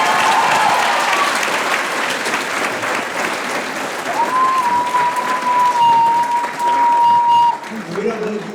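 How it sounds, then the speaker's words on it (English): An audience claps at a high school graduation, broad steady applause filling the space, with a whistle-like tone rising midway before the clapping thins and voices emerge at the end. "let's clap again"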